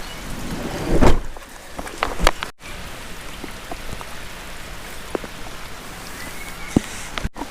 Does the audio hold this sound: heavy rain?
yes